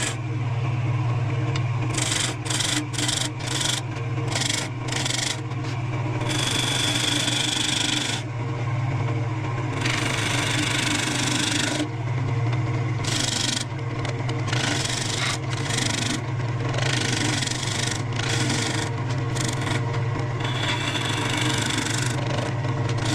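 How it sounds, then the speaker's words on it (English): A wood lathe turns a piece of wood at slow speed, around 400 RPM, giving a steady low motor hum with repeated bursts of scraping as the tool rubs the spinning wood. "make sure your lathe is going almost at the slowest speed possible"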